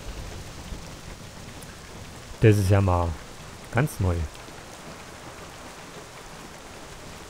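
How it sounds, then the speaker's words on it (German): Steady rain with a thunderstorm in the online role-playing game Black Desert Online, a constant hiss of falling rain throughout, while someone speaks briefly over it. "Es hat angefangen zu regnen. Aber jetzt aber richtig."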